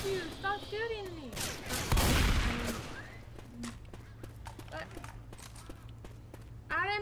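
Gunfire from a Left 4 Dead 2 match: a dense burst of shots around the middle, then scattered sharp cracks, with voices and game noises around it.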